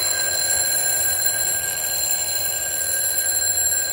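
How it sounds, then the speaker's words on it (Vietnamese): A vintage rooster-shaped alarm clock rings continuously, a loud steady metallic bell tone with sustained high overtones, heard alone and close for several seconds. "Mã số 5 là một cái đồng hồ báo thức con gà huyền thoại nha."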